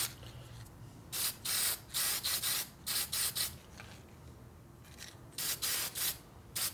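Aerosol sealer sprayed onto parts of a 1930s Harley-Davidson WL 45ci flathead bobber during a rebuild, heard as close, loud hissing bursts of about half a second, some in quick clusters, separated by quiet pauses.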